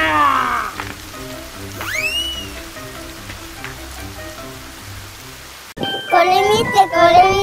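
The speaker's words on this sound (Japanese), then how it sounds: "雨が降ってきた。" Rain falling in a children's cartoon, a steady patter lasting several seconds, with a voice talking over it near the end.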